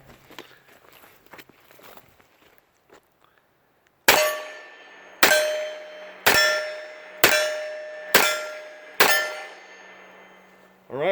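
An Enfield No 2 Mk1 revolver fired six times at a steady pace, each loud, sharp crack followed by a bright metallic ring that fades, after a few seconds of faint shuffling.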